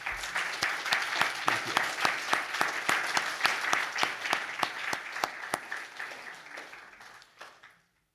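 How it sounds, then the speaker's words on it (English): An audience at a school awards chapel gives its teachers a steady round of applause, a dense wash of clapping with a few sharp distinct claps. It fades out after about seven seconds, and a voice briefly says thanks. "A round of applause for our teachers."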